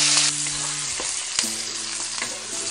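Onion and garlic frying in a hot wok for a tofu dish, a loud, steady close-up sizzle with a few faint stirring knocks and no voices.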